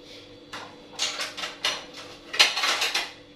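A plate and dishes are handled in a kitchen while a rice-and-egg dish is served, giving a run of close ceramic clinks and clatters in uneven bursts, fairly loud, with no speech.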